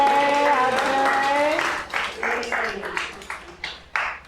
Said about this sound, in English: let's give Ms. Nika a round of applause and some ashe.